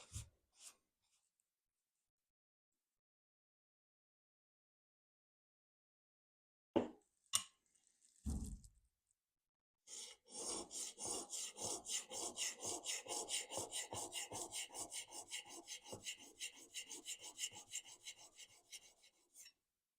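An old Stanley plane blade rubbed on a sharpening stone: a couple of brief scrapes, then a steady run of rapid back-and-forth strokes that is fairly close but soft, with no talk.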